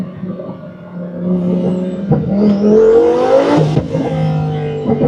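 A Lamborghini V12 sports car engine revs hard and climbs in pitch as it accelerates through a lap, loud and close, with a brief shift dip before pulling again.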